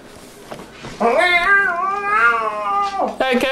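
A cartoon cat in an animated TV show lets out a long, loud, wavering yowl lasting a couple of seconds, close to the microphone, followed by a short cry.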